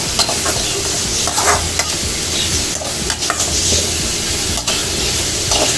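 Dried anchovy thokku sizzling and frying in a pan while being stirred, a loud, close, continuous crackle and hiss broken by irregular scraping strokes of the spoon.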